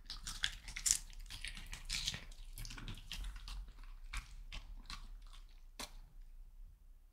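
A dog chewing a piece of nectarine, with soft wet biting and squishy mastication sounds close up, irregular bursts of chewing over several seconds with no talking.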